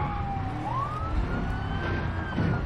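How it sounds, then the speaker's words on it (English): Police car siren in the BeamNG driving game, a single wailing tone that rises and holds steady, loud and continuous over engine and road rumble. "Oh, my God, the police car."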